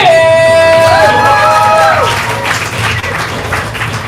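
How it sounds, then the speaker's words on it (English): Audience at an improv comedy showcase applauding and cheering as a team captain is introduced, a steady wash of clapping with whoops and an announcer's voice and sustained tones cutting through near the start. "keep the applause going for your captain, Chris."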